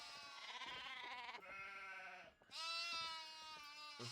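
Sheep in the video game Nancy Drew: Haunting of Castle Malloy bleat in a run of loud, wavering calls, one after another with a short pause midway, with no talk over them.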